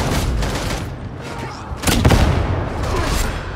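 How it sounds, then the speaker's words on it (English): Dense gunfire and booms from Warhammer 40K Darktide crackle continuously, with a louder burst midway through, mixed with faint game voices. "engaging focus fire"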